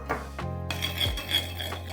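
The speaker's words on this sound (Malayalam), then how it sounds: "തൈര് നല്ലവണ്ണം ഇളക്കി കൊടുക്കുക." A spoon scrapes and clinks against a metal vessel while curd is stirred smooth for Kerala vendakka kichadi, making a close, continuous scraping sound with no voices.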